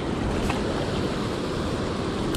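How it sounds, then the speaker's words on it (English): Choppy water sloshes steadily against a wall on a river where rollers push the current back, a loud, continuous wash with wind noise and no speech. "it's causing all this water to circulate back towards this wall, and it's getting really choppy"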